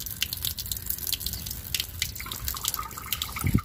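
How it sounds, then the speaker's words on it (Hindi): Water rushes steadily from a gas geyser pipe just after its valve is opened, a continuous close hiss and splatter with drips that ends abruptly. "ये देखें, ये पानी स्टार्टिंग में तो स्पीड से आ रहा था लेकिन अब वाल बंद है तो अब पानी रुक गया।"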